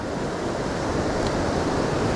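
Ocean swell and surf breaking over shallow reef rocks at night produce an unbroken, loud wash of white noise that stays even and steady from start to finish.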